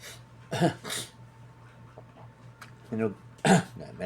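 A few short coughs or throat clears, close and fairly loud, spaced apart with quiet gaps between them.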